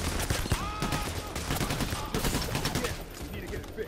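Shotgun blasts and other gunfire in the video game Payday during a heist shootout, with repeated loud shots in dense chaotic action and a voice speaking over it.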